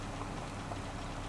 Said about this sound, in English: take a break, and hopefully the rain will ease up